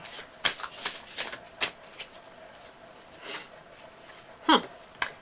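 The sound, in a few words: shuffling a deck of cards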